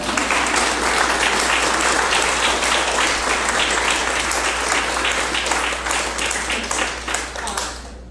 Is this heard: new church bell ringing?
no